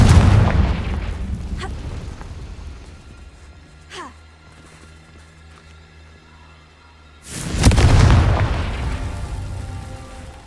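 Confringo fire spell explosions in Hogwarts Legacy: a loud booming blast that decays over a couple of seconds, a quieter stretch with a whoosh, then a second heavy, rumbling explosion.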